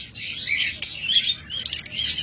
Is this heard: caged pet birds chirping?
yes